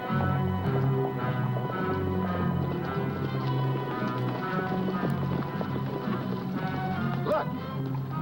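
Horses gallop with a rapid, rolling clatter of hooves, fairly faint and steady beneath a continuous musical score.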